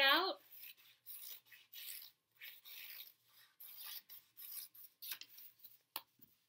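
Paper being cut with scissors for a cat-shaped craft, giving a series of soft, close snips and rasping paper rubs in short irregular bursts, with a brief higher voice-like sound at the very start.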